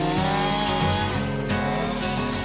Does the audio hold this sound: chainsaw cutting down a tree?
yes